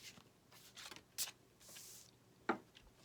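Tarot cards are shuffled by hand in quiet, soft close riffling bursts with a couple of sharper snaps and a brief ruffle in between.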